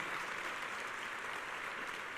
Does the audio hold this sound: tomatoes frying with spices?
no